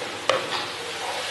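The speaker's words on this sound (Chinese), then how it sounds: "在炒那个 豆腐饼跟猪肉" Tofu cakes and pork being stir-fried, with a soft continuous sizzle and a single brief scrape of a utensil in the pan.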